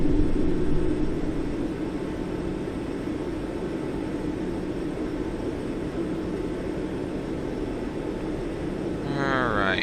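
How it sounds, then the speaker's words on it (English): Airliner engines in Microsoft Flight Simulator X hold a steady, loud roar at climb thrust. The drone is continuous and stays the same throughout, with a short electronic tone near the end. "Alright, I'm gonna go ahead and set climb thrust."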